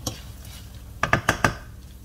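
Onions roasting in a pan for a carrot fry, stirred with a utensil that makes a few quick scrapes and clinks against the pan over a faint sizzle.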